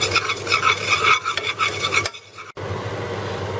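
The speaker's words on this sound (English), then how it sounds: "Now we have to mix it well and make sure no lumps are formed." Butter and flour stirred together in a pan for a garlic sauce give a close, steady scraping swish that breaks off briefly, then returns as a softer continuous rub with no talking.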